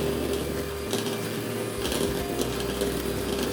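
Electric hand beater whipping eggs with sugar for a chocolate cake, a steady close mechanical whir with a low motor hum running throughout, rising slightly in places as the beaters move through the bowl.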